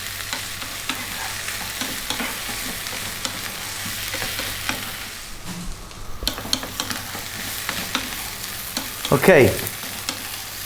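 Potatoes with garlic fry over high heat in a pan and are stirred constantly, a steady dense sizzle with scraping spoon strokes, ending with a brief louder clatter; a short word is spoken near the end.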